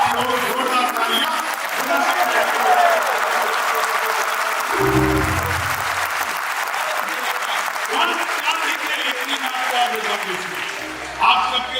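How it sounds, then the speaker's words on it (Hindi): Loud, sustained applause from a live audience at a Hindi poetry gathering in Delhi, a dense roar of clapping that swells midway and holds steady. "आप लोग जोरदार तालियां।"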